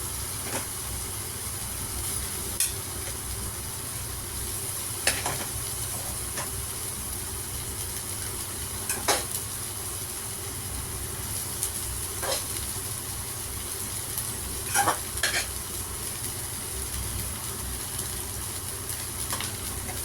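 Cooked rice is mixed into tomato rice in a hot pan, a continuous low sizzle with scattered scraping clinks of the spoon against the metal at irregular intervals.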